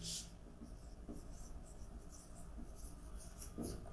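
Marker or chalk scratching out points on a board during a chemistry lesson on coordination complex colours, a steady soft rubbing with brief stroke bursts at the start and near the end, fairly faint and alone.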